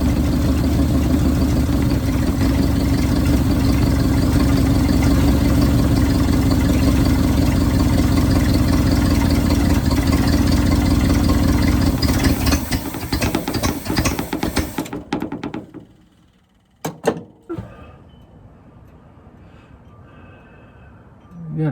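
A 1971 Ford wrecker truck engine runs loud and steady with a rough, uneven misfiring note for about twelve seconds. Then it fades and cuts out, leaving near silence broken by one brief clunk.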